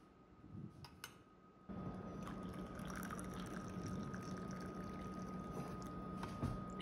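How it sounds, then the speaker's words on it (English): Milk pours steadily into a cup of coffee for café con leche, a spoon holding back the foam, a soft, continuous liquid stream heard up close after a few quiet clinks. "I use a spoon to hold back the foam as I pour in the milk."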